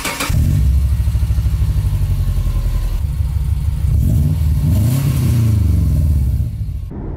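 A car engine fitted with unequal length headers and an HKS muffler revs hard and close, with a loud, steady, rumbling exhaust note that rises and falls over several seconds before cutting off abruptly.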